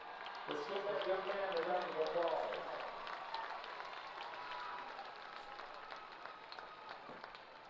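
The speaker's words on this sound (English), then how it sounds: "Let's give that young man a round of applause." At a high school football game, Brenham at Oak Ridge, a crowd in the stands applauds and cheers at a distance, loudest at the start and then thinning into scattered clapping under a nearby announcer's voice.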